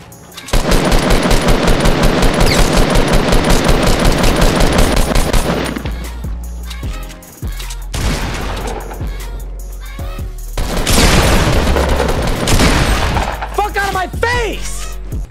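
Light machine gun fire in the Fortnite video game: a dense, loud, sustained burst of rapid shots for about five seconds, then a pause and further shorter volleys, with a voice talking over parts of it.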